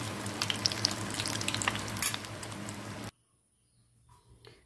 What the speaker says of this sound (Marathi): शॅलो फ्राय पाहिजे तर शॅलो फ्राय करू शकता छानपैकी क्रिस्पी करून घ्यायचं